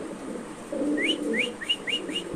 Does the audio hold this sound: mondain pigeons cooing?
yes